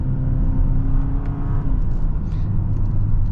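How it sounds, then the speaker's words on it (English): A 2023 Hyundai Santa Fe in sport mode accelerates hard from inside the cabin, a steady loud engine drone with road roar and a gear change partway through. "The moment you put it in sport mode, this thing just wants to go."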